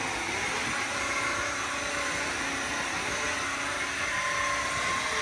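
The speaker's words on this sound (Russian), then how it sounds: "Поэтому с пылесосом хорошо. Он это все убирает." A pool vacuum cleaner runs continuously, a loud, steady motor whine with broad rushing hiss and no change throughout.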